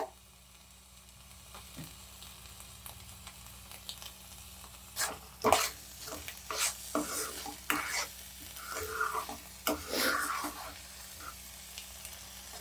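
Ghee-coated raw papaya halwa being stirred in a pan, with soft scraping strokes and a gentle sizzle that grow busier after a quiet start, close and with no voices.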